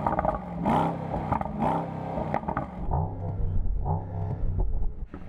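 A Mercedes-AMG GT engine revs hard in repeated bursts, its growl rising and falling and clipping against the rev limiter, loud and close with a clattering edge.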